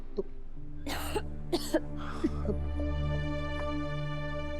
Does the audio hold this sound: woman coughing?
yes